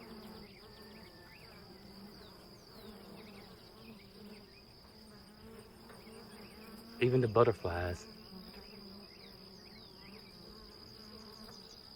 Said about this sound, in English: Oh, the sound is unreal at all of the bees.